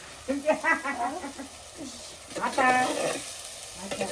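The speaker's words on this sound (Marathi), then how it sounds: "फोडणी घालून घेतलेले." Tempering (phodni) sizzles in hot oil in a home kitchen, a steady frying hiss running under voices that talk over it throughout.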